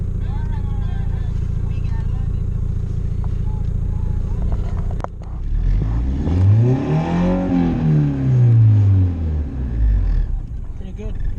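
A red Honda Civic's engine runs on its two-step launch control, idling steadily and then rising and falling through several loud revs close by, with people talking over it.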